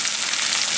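Cod fillet frying in butter and oil in a pan, a dense, continuous bright sizzle, close and steady, with no talk over it.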